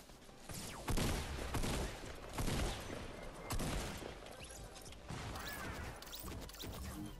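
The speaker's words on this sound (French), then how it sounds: "On me fait encore tirer dessus" Gunfire aimed at the player in Fortnite, several sharp bursts of shots and impacts at irregular intervals, loud and close over a busy background.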